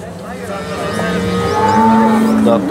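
Cattle moo loudly at a busy cow market, one long sustained bovine call rising over a constant crowd murmur, close to the microphone.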